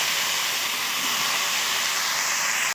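Ridge gourd and potato hitting hot oil in a wok, a loud, steady, close hissing sizzle that fills the whole moment and cuts off abruptly at the end.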